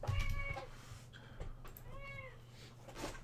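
A pet cat lets out three or four drawn-out, wavering meows at close range, with small pauses between calls against a quiet room background and no talking.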